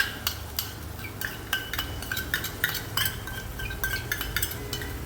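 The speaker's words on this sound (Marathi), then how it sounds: "सो हे वाटण आता तळून घ्यायचं." Onion, garlic and red chilli spice paste fries in a pan for a Kolhapuri misal, with repeated scraping and clinking stirs of a utensil against metal over a steady low sizzle, close up.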